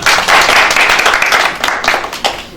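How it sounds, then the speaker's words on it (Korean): A crowd at an outdoor rally in Seoul Plaza applauds steadily, a dense wash of clapping hands that tapers slightly near the end. "이거는 박수를 쳐줄 일입니다."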